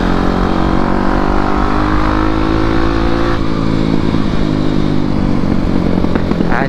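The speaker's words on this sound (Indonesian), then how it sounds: "ada belatak tak taknya kalau motor ini tuh." A motorcycle engine revs loudly and steadily at close range, with a rough, throbbing exhaust note. It runs alone without any voices.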